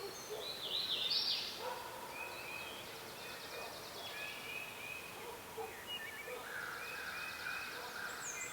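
A wild turkey gobbles far off in open country during early-season hunting, a faint high burst of gobbling heard over steady wind and outdoor noise.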